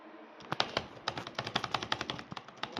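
Rapid bursts of Roblox gunfire, a dense run of sharp cracks close together, some in quick automatic strings, with no talking.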